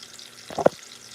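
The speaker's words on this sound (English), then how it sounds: "I got steak and I already pre-cooked it. So here all we doing is frying up." Pre-cooked beef steak fries in a pan, giving a brief soft sizzle with a sharper pop near the middle, close by and alone.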